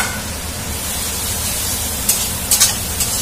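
Fried potato pieces, cut small, dropped into spices frying in a pan: a steady broad sizzle throughout, with a few sharp crackling bursts near the end as the pieces hit the hot oil.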